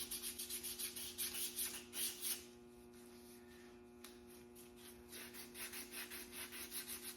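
Sandpaper rubbing on a carved wood skull in quick rhythmic strokes, close and soft, pausing in the middle before resuming over a steady low electrical hum.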